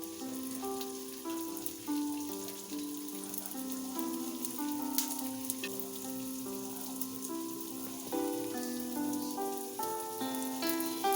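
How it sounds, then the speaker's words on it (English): Dense, hissing crackle of dumplings frying in hot oil, continuous and close, under a soft background of gentle music. "My oil is hot now. I'm frying the rest of my dumpling."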